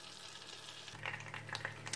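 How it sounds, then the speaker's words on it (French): Butter melting in a saucepan to make brown butter, with a faint, soft bubbling sizzle and a few light crackles toward the end. "on va faire fondre le beurre et on va réaliser un beurre noisette"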